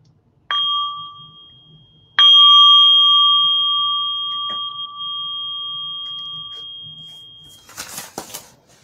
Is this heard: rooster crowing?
no